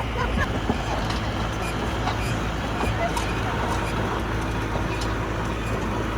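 A haunted hayride vehicle at a campground in Pavilion, NY drives close by with a loud, continuous rumbling roar of engine and road noise that holds steady throughout.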